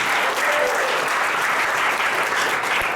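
Sustained audience applause at a business presentation, a dense, steady wash of many hands clapping close by throughout with no pauses.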